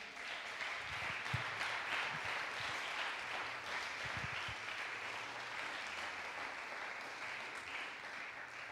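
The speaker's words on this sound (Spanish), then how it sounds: "Déjele un aplauso, déjele un aplauso." A church congregation at a youth worship service applauds continuously, a faint, even wash of many hands clapping that lasts the whole stretch with no break.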